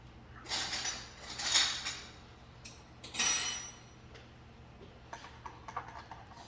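A spoon stirs a vegan meatloaf mixture in a bowl, giving a few scraping, clinking strokes in short bursts with quieter taps between, close and moderately loud, with no talking.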